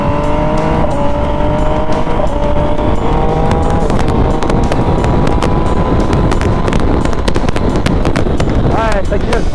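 An MV Agusta Dragster 800 RR motorcycle engine revs hard and loud up through the gears, with quick rising pitch sweeps broken by clean quickshifter upshifts, and wind rush throughout.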